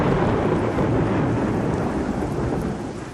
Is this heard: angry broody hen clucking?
no